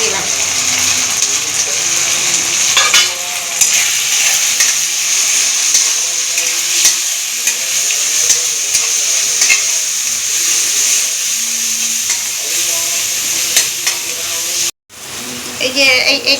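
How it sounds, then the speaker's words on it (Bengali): Spices such as turmeric, salt, chili powder and coriander powder sizzle and fry in a pan while being stirred for rajma, a steady broadband hiss running throughout with occasional scraping and someone talking over it. "এটা ভালো করে নেড়ে নেবো এবার।"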